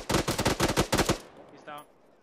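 Heavy machine gun in Arma 3 firing several rapid bursts, loud and close, each burst a quick stutter of shots, then cutting off with a faint fading echo.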